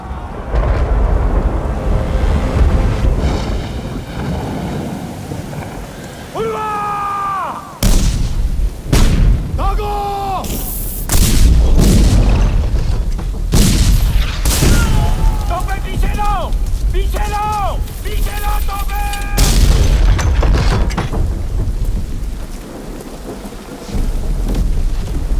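Cannon fire in a film battle scene at a fort siege, with heavy repeated booms and blasts crashing over a dense, loud soundtrack, interspersed with shouting voices.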